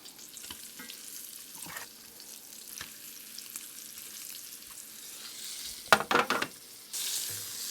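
Pork chops fry in a pan with a steady low sizzle and occasional taps, then a burst of louder crackling and spatter as they are turned, ending in a strong hiss; close and without speech.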